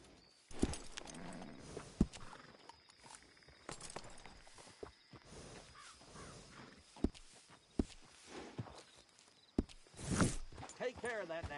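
A horse in the video game Red Dead Redemption 2 moves with scattered hoof clops and shuffles, interspersed with sharp knocks and rustles, while a voice talks quietly in the background.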